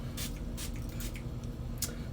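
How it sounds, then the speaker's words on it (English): A spray bottle of mint water room spray with serpentine stones, eucalyptus, peppermint and clary sage gives several quick, close, airy hisses in an uneven rhythm over a steady low room hum. "I'm going to spray a little bit of this"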